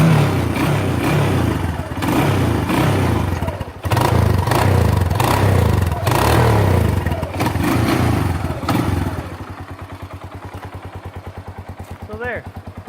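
A Kawasaki Bayou ATV with a freshly repaired muffler revs hard in loud, choppy bursts with brief dips, then drops to a rapid idle putter; a voice briefly speaks near the end.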